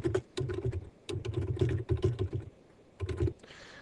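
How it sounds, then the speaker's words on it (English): Computer keyboard typing up close, quick bursts of crisp key clicks in three short runs separated by brief pauses, with no voices. "And after that, you can type in whatever text you want."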